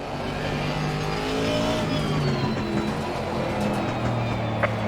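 Aston Martin and other GT3 race cars in Assetto Corsa Competizione roar along the track in a loud, sustained engine drone, with revs rising and falling as cars run close together.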